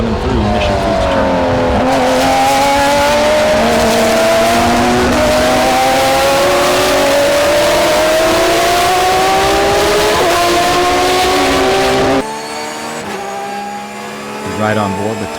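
Race cars from the IGT series racing through a turn at Mid-Ohio, a loud continuous engine drone with rising pitch as they accelerate, close and dominant, then cutting away to a fainter engine sound, with commentary over it.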